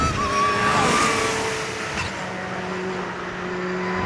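Porsche 911 GT3 driven on a track, a high-revving engine note climbing then easing off, with a tyre squeal early on and a fading mechanical roar after.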